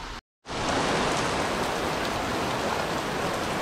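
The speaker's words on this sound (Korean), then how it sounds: "소나기야, 장마철이구만 이제." Sudden heavy monsoon-season downpour pours down in a dense, steady hiss after a brief silent gap at the start, loud and close, with no voices.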